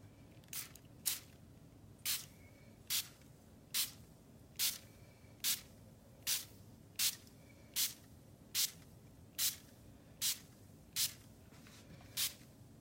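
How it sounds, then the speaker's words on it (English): A Stampin' Up! water spray bottle gives about fifteen short, sharp misting bursts at a steady, even pace, each a crisp hiss in a quiet room. "So then what you need is a water spray."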